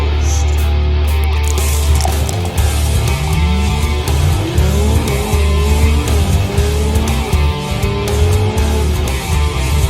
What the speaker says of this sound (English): I hear a squealing noise.